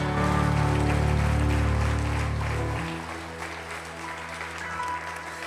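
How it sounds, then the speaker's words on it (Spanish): A church congregation applauds during a Spanish-language service. The clapping rattles at a moderate level over a sustained low, tonal hum, easing slightly in the second half. "Hoy, dale un mejor aplauso al Señor Jesús"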